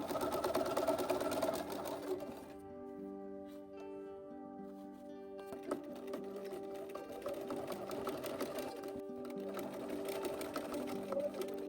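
A sewing machine basting the lining layer of a dress top and bottom, a close whirring stitch rhythm in bursts, pausing briefly in the middle before running steadily again, with no talking.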